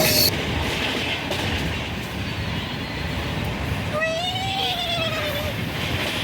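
A passenger train runs on the Vizag to Tirupati route, giving a steady loud rumble and clatter throughout, with a brief rising tonal whine near the end.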